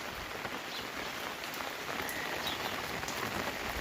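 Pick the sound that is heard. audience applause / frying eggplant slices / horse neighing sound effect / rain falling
rain falling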